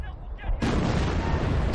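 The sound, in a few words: explosions from a booby trap in a video game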